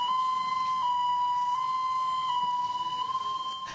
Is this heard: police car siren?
yes